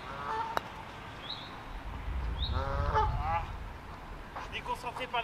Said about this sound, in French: Je suis déconcentré par les oies.